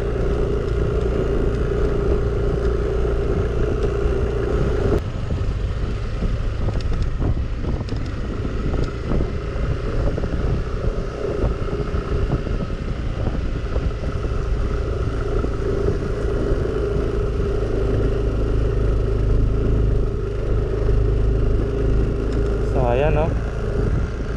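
A motorcycle rides along a rough road near a campsite in San Nicolas, Bamban, Tarlac, its engine droning steadily under heavy wind buffeting for over twenty seconds, with a voice talking now and then.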